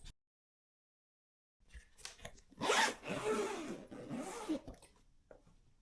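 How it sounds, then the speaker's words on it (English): A zipper on a hard-shell Level 8 Luminous textured suitcase is pulled along its track after a short silence, giving a close, scratchy rasp that rises and falls over a few seconds. "we've got two zippers that we can put things in here"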